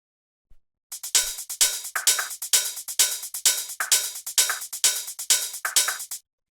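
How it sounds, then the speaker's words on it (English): A crisp, looping techno pattern of hi-hats and percussion hits ticking in a steady, driving rhythm, bright and close, with no voices. "the last thing we have here are the hi-hats and percussion, which sound like this"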